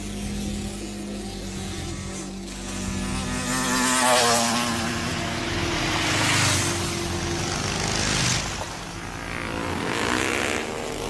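A motorcycle engine drones in a scene from a French action thriller film, swelling and fading in loudness as it rides along, with a rough, buzzing tone throughout.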